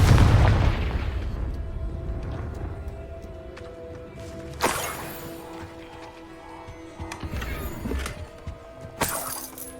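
A Confringo fire-blast spell goes off in Hogwarts Legacy, opening with a loud booming burst that fades into a rumbling tail, followed by sharper shattering crashes and debris clatter.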